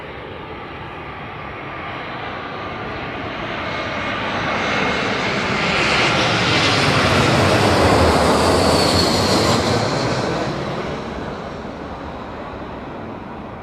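A large airliner on final approach and landing, its jet engines roaring in a broad, steady wash that swells to a peak mid-way and then eases off, heard continuously with no talking.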